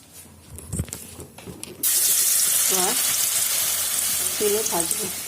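Cauliflower florets for fritters drop into hot oil, which bursts into a loud, steady sizzle after a few soft handling sounds, and a voice speaks briefly over the frying.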